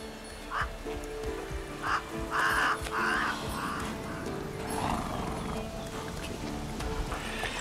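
Roach the horse in The Witcher 3: Wild Hunt clip-clops along with steady hoofbeats, joined by occasional crow caws and a brief whinny over game ambience and music.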